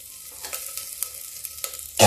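Sprouted fenugreek seeds splutter and crackle in hot oil in a pan, a scatter of sharp pops across about two seconds, close and fairly loud, ending in a brief louder burst.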